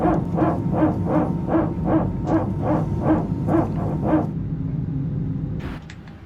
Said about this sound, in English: So that's just the sound of the PTU, which is the power transfer unit.